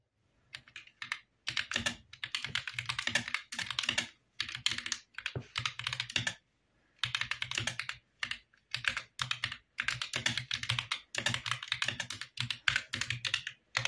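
Typing on a ROCCAT Vulcan TKL Pro tenkeyless keyboard, with rapid, close clattering keystrokes in bursts broken by short pauses, moderately loud and with no talking.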